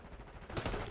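Gunfire in the video game Call of Duty Black Ops 6, a short burst of loud rapid shots swelling up in the second half.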